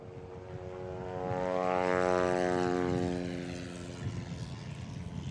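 A Husky STOL airplane's propeller engine at a Rocky Mountain STOL competition drones past, swelling to a peak and fading again, a steady harmonic buzz with no talk.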